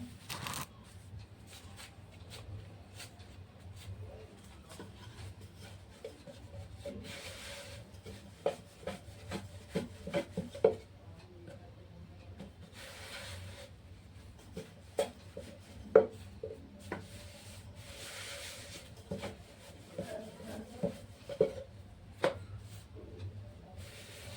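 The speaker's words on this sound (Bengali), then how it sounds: "এরপর আমি আলুর পরোটাটা বেলবো" A rolling pin works potato-stuffed paratha dough on a board, giving soft, quiet rubbing sweeps and light wooden taps that repeat steadily at close range.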